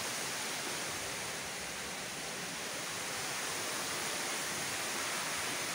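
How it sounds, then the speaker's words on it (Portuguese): Water rushes steadily down the Cascata do Herval waterfall in Santa Maria do Herval, a loud, unbroken broadband roar with no voices over it. "Que a água desce com gosto, desce com vontade."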